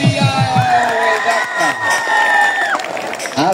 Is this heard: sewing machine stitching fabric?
no